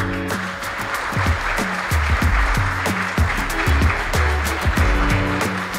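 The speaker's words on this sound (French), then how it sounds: "Un tonnerre d'applaudissements pour Loïc Blondiaux" Applause from a studio audience greeting guest Loïc Blondiaux, a democracy specialist at Paris 1 Panthéon-Sorbonne, onto a Paris debate set, a steady wash of clapping with rhythmic thumps running under it throughout.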